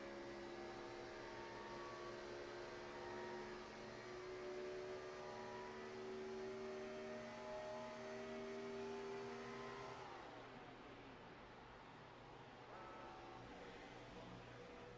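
An iRacing race car engine at Chicagoland holds a steady high drone, then lifts off to save fuel, the pitch sliding downward and settling into a lower hum; quiet and continuous, no talk.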